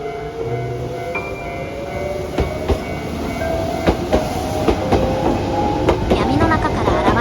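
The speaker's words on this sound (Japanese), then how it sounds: "ここに来る時に乗った電車が折り返して戻ってきました。" A Nankai Railway train rolls into Kizugawa Station in Osaka at night with rumbling wheels and rhythmic clacks over rail joints, metallic squeals rising near the end as it slows nearby.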